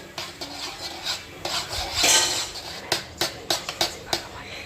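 A homemade mastani ice cream mixture is stirred in a bowl, a run of scraping, rubbing strokes ending in a series of sharp, regular clinks of spoon against the container, close by and with faint speech behind.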